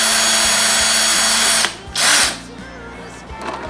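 A power drill whines steadily as it bores into a hard plastic tab for a custom wade-fishing box, then stops, gives one short burst, and falls quiet.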